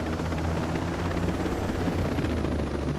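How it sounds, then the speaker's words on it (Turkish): A video game helicopter's steady rotor thrum and engine roar fill the scene continuously in Ghost Recon Breakpoint, loud and close, with a rapid pulsing chop throughout. "normal şartlarda helikopter çok ses çıkartır"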